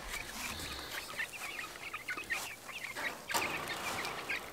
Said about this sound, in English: show y'all my chickens. They are Buff Orringtons